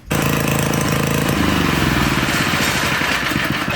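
A small homemade boat engine built from a saw blade runs loud and close on choke, a rough, rapid chugging drone that holds steady throughout.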